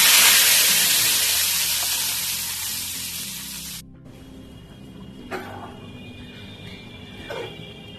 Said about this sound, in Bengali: শুকনো লঙ্কা জিরে আমি ফোড়ন দিয়ে দিচ্ছি।